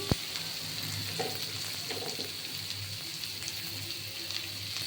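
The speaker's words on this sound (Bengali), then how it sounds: "এটাকে আমি একটু ভাজা ভাজা করব" Boiled potatoes frying in a pan, a faint, even sizzle with a few soft pops and a sharp knock at the start, no voices.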